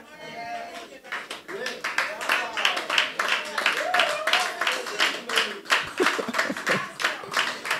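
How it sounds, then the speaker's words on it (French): A church congregation claps in sustained, dense applause that is steady and moderately loud, with a voice speaking over the start. "On peut applaudir à la gloire de Dieu encore."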